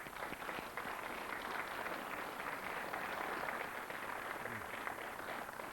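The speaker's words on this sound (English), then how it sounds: "Applause for Neil, please." A studio audience on the Countdown TV quiz show applauds a contestant, a steady, fairly quiet wash of clapping that holds evenly throughout with no voices over it.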